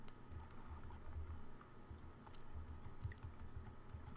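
Keys clatter in a quiet, steady run of soft taps on a computer keyboard while someone sets up an input type in code, the sound faint and close with no voice.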